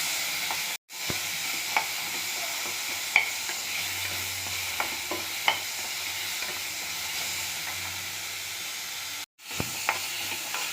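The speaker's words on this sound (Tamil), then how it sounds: "வெங்காயம் பூண்டு தக்காளி மூணையும் போட்டு நல்லா வதக்கிடணும்" Onion, garlic and tomato sautéing in a pan with a little salt and tamarind for onion chutney, a steady close sizzle with light clicks of a stirring spoon throughout and two brief dropouts.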